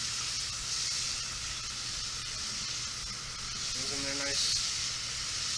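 Minced shallots sizzling in a hot pan, a steady bright hiss of frying that holds evenly throughout, with a brief voice speaking over it near the end.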